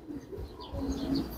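Silver style pigeons cooing in a loft, soft low coos close by with faint chirps around, no talk.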